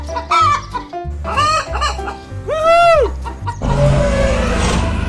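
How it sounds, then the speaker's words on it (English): A cartoon chicken clucks in several bright, bouncing calls and ends with a noisier squawk, all heard over a steady low musical beat in a children's animal painting animation. "chicken,"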